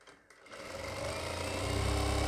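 A sewing machine stitches a churidar pajami, starting after a brief quiet moment and building into a steady, close mechanical hum that grows louder and fuller toward the end, with no talk.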